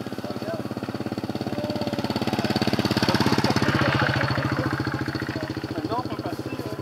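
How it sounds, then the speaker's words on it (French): On a street in Vietnam, a motorcycle engine thrums close by with a rapid steady pulse, swelling louder as it passes and then easing off slightly, while people talk over it. "La moto va passer."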